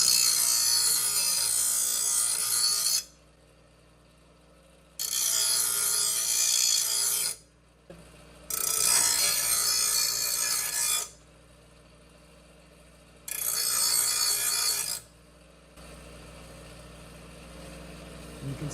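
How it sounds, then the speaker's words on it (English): A file or rasp sharpening the edge of a Troy Bilt TB110 lawn mower blade, heard as four bright scraping strokes lasting a couple of seconds each, with quiet pauses between them. "So you just want a real quick sharpen just to get rid of a lot of the nicks and imperfections in the blade area here."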